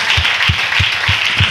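A church congregation claps in unison, five loud rhythmic claps at an even pace, close and strong.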